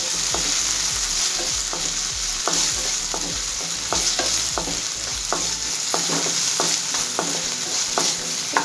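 A finely ground mixture frying in a pan, with a bright continuous sizzle and regular scraping strokes of a spoon stirring it about once every half second, close and fairly loud, no voices.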